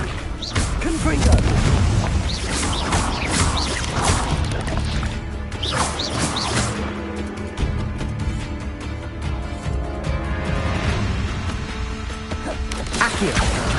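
Confringo blasting spells in the video game Hogwarts Legacy, with repeated booming explosions, crashing impacts and whooshes layered in a loud, busy combat scene, with speech mixed underneath.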